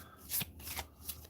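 A villain deck of playing cards for the Umbrella Academy board game is shuffled by hand, producing three quick riffling bursts of crisp paper flutter, close and quiet, with no talking over them.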